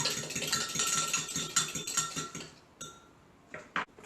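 Butter tart ingredients mixed together in a bowl, a quick run of rhythmic clinking and scraping strokes for about two seconds, then a pause and a few scattered clinks, close and fairly quiet.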